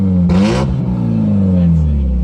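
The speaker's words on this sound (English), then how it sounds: "Tell me how sick the exhaust sounds" A Mazda Miata exhaust revs up loudly, a sharp burst of engine roar that swells and then drops back to a steady rumble.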